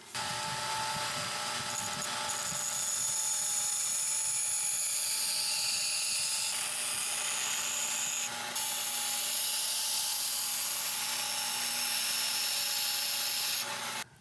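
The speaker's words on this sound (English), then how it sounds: "then I'll put a fresh belt on and start grinding the bevels" Belt grinder grinding bevels on a small knife blade, a steady high-pitched abrasive whine and rasp that runs continuously and loudly for the whole stretch, with a brief dip as the blade is repositioned.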